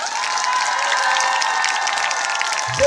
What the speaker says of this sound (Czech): pořádně zatleskáme na té fotce